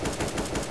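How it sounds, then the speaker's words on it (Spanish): Rapid automatic gunfire in Counter-Strike: Global Offensive, a quick burst of about four loud shots in a regular stutter, with no talk over it. "No, no, ha sido disparo."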